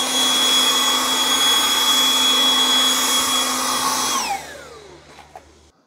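A Milwaukee M12 compact cordless spot blower runs on high with a loud, steady whining whir. It then winds down with a falling pitch and fades to near silence near the end, with no talking.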